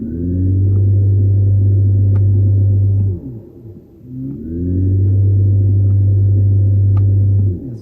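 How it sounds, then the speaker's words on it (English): Simulated gasoline engine note played by a 2022 Mercedes-Benz EQS electric car in Silver Waves mode during acceleration: a loud, deep revving rumble that climbs in pitch, drops away briefly, then builds again in a second pass, with no speech. "Silver Waves is far more entertaining because it turns on a gasoline engine sound."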